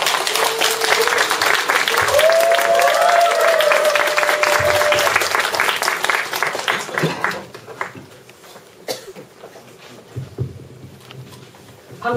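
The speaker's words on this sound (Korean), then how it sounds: "큰 박수로 맞이하겠습니다." A large audience claps loudly and steadily for several seconds, then the applause thins out and fades to scattered claps and near quiet.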